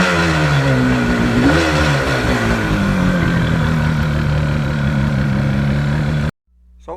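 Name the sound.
1977 Yamaha RD400 two-stroke motorcycle revving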